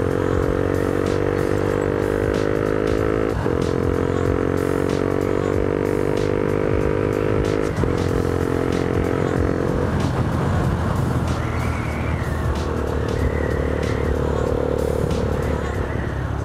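A motorcycle engine hums steadily with several quick shifts in pitch as gears change, the engine note dropping and rising again, with wind noise throughout.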